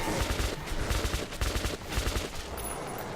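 Rifle gunfire in the shooter game Metro 2033 Redux: a rapid burst of repeated shots, loud and close, with dense cracks running continuously for about three seconds.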